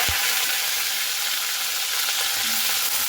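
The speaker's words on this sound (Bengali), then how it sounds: "তো সজনে ডাঁটাটাকে একটু ভালো মতো করে ভেজে নেব।" Sajne data (drumstick vegetable) frying in a pan for a vegetarian dish, a steady close hiss and sizzle of oil throughout with faint stirring scrapes and no talk.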